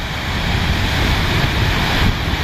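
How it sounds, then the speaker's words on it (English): Rustic Falls, a waterfall in Yellowstone, gives a loud, steady broadband roar of rushing water with some wind buffeting on the microphone, continuous and unbroken throughout. "And here's the waterfall."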